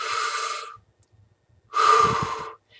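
A person performs a deep breathing exercise: one long, loud exhale, a pause of near silence, then a second strong breath through the mouth, close and alone with no talk.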